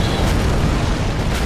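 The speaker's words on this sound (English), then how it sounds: "he's blasting fire into the air" A fire giant in a video game blasts fire into the air, a continuous loud roaring whoosh that fills the whole moment without pause.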